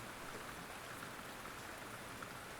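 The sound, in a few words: rain pattering on a roof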